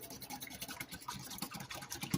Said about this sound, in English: Give this a whisk. Try to get that oil worked in.